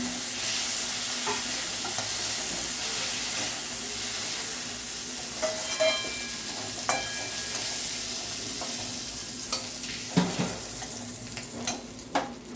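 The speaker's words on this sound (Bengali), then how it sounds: "চিংড়ি মাছ বেশি ভাজলে শক্ত হয়ে যায়, তাই মাছগুলো হালকা করে ভেজে তুলে দিচ্ছি" Prawns lightly frying in a wok, a steady close sizzle with occasional stirring clatter and a few sharper spatula clicks near the end, no voices.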